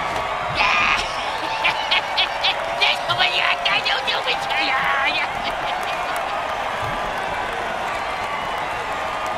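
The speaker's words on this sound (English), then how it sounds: "Oh, crowd's loving it." A stadium crowd in an American football video game cheers and applauds in a steady wash, with bursts of whoops and claps in the first half, while a commentator talks over it.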